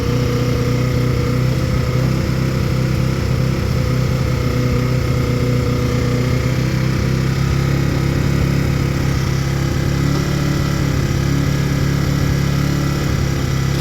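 A barn-find Honda CD 175 motorcycle engine under repair runs steadily with a loud, close, rough idle that never changes, with a suspect choke and no voices over it.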